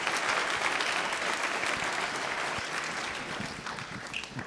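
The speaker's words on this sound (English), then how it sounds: "Big round of applause for David, please." An audience at a London electric-truck launch event applauds in a steady, dense clatter of clapping that fades slightly toward the end.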